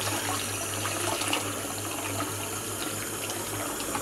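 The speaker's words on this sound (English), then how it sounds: "I will use the heat from the tap to warm up the ice stalk." Hot water runs from a tap in a steady, even stream, a constant soft hiss and splash with no voices.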